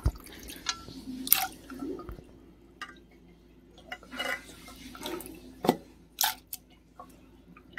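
Fresh water is poured into a bowl to wash figs for a fig curry. The quiet kitchen sounds are made up of scattered drips, small splashes and the odd clink of a pot or utensil, with no talking.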